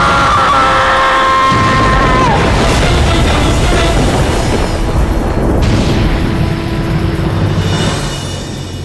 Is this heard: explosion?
yes